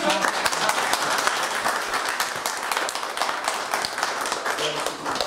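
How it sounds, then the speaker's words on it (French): Sustained applause fills the room at a DELF diploma award ceremony for students, many hands clapping in a dense, fairly close patter with scattered sharper claps, and faint voices beneath. "On applaudit."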